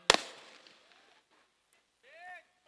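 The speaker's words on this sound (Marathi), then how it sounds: "ते फटाके आपण फोडत असताना चुकीच्या दिशेने उडवू नका." A firecracker bursts at a night cricket match: one sharp, loud bang near the start that trails off into a fading rumble, followed by quiet and a short tonal whine.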